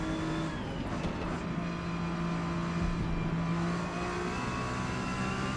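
A Porsche race car in Forza Motorsport, its engine droning steadily with sustained harmonic tones and shifting pitch, loud and continuous for several seconds with no break.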